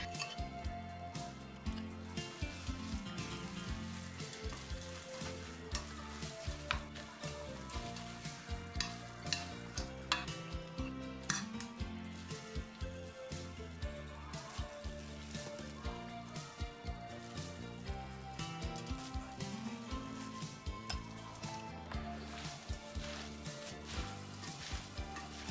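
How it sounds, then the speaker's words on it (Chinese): Soaked gluten noodles being tossed with chili oil in a bowl, a steady wet squishing and stirring texture with faint sizzle-like crackle running continuously and close throughout, no voices. "再把刚才做的辣椒油直接倒在上面搅拌均匀"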